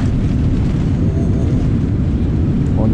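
Steady low roar of an Air Astana airliner in flight, a dense rumbling drone filling the cabin without break.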